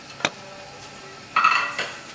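Olive oil and butter cooking in a pan for a shrimp glaze, with a faint sizzle, a couple of sharp utensil clinks and a brief burst of frying and stirring noise; no talking.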